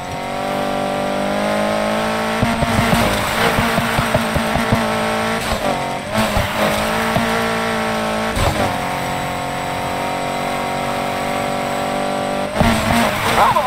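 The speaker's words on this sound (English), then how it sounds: "Textbook drift." A car drifting in a video game, with its engine roaring steadily at high revs and tires squealing in repeated bursts as it slides through turns, loud and continuous throughout.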